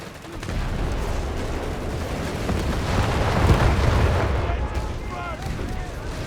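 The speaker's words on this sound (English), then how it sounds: "We got mortars hard at work." Mortars and machine guns fire on a Company of Heroes 3 battlefield: loud, overlapping explosions and rapid gunfire build into a swelling roar midway, then ease off into scattered bursts.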